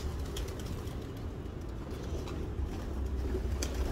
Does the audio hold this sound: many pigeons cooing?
yes